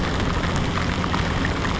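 Heavy rain falling in Jakarta, a dense continuous hiss of drops pattering on surfaces, loud and close, with no voices.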